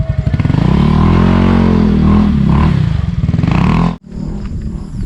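A motorcycle engine close by at Yambo Lake in Nagcarlan, Laguna, rumbles loudly with throbbing revs, then cuts sharply and settles into a lower, steady idle.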